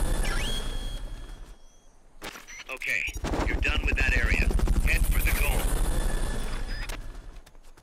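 A helicopter in the video game Metal Gear Solid Peace Walker on PS3 gives off a loud, continuous rotor thumping and whine, with sharp gunfire-like bursts mixed in.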